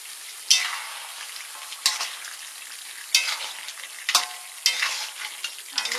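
Pumpkin slices frying in a pan: a steady oil sizzle, broken about five times by a loud scrape as the pieces are stirred.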